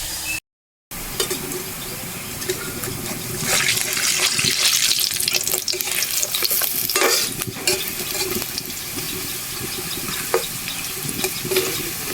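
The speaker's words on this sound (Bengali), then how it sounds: "বড়াগুলো খুব বেশি বড় করে ভাজবো না, ছোট ছোট করেই ভেজে নেব।" Steady oil sizzle from red lentil fritters frying runs throughout, with occasional stirring and scraping sounds over a constant hiss.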